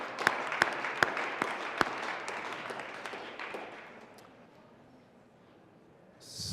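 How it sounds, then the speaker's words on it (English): Applause in a state Senate chamber for visiting students, a broad wash of many hands clapping with a few sharp claps standing out early, gradually thinning and fading over several seconds before a brief swell of noise at the end. "Members, let's give a round of applause for the students who joined us today."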